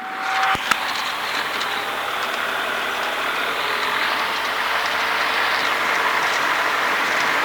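A Mercedes-based aviation engine block built up for light aircraft and running on jet fuel drones steadily and loudly at close range throughout, with a brief click near the start and no talk over it.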